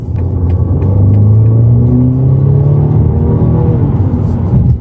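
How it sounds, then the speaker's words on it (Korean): A BMW M235i's engine and exhaust build a loud, steady rising growl as the car accelerates on a city road, close and continuous with no talk. "그때 느껴지는 엔진음과 배기음이 계속 밟고 싶게 만들어줍니다"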